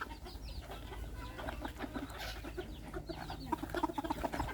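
Overlapping clucks from a crowd of bantam chickens fill an evening feeding on a Chanthaburi bantam farm, close and continuous with brief sharper calls toward the end.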